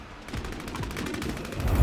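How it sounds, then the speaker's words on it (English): Distant gunfire in a battle royale video game: a string of faint, rapid shots rolling along in a steady patter, slightly louder toward the end, with no talking. "Somebody's shooting from across"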